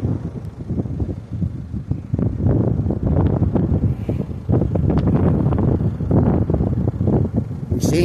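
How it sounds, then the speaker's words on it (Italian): Wind outdoors on a mountain, buffeting the microphone in loud, irregular low gusts and rumbles that continue throughout with no talk. "va bene Stefano, qui c'è un po' di vento, temperatura 15 gradi"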